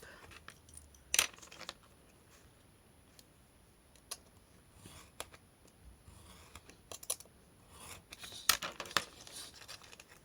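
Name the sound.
cutting craft paper in two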